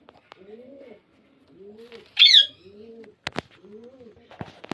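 Pigeons coo at a pigeon sale, with four soft repeated coos at a steady pace, close by. A brief sharp chirp cuts in midway, and a few clicks and knocks sound near the end.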